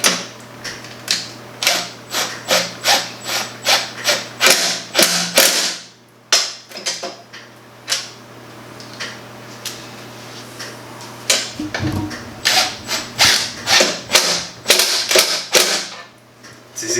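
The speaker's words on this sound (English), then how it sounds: "We're using a 1/2 inch socket. And we're going to put it back in." A 1/2 inch socket wrench ratchets bolts back in while installing a Chamberlain garage door opener rail, a fast series of close, sharp clicking bursts with a short pause midway before the clicking resumes.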